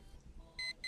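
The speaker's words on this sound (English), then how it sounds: "I hear an alarm" An alarm clock in the horror game Evil rings in two short, bright electronic bursts at the end, after a faint low rumble.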